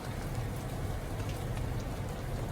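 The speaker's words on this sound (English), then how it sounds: "I'm out here at Carvana, as you can see, in the rain. And this rain is relentless." Heavy, relentless rain pours down outdoors at a Carvana lot, a dense, steady hiss of drops close by with no pauses and no talking.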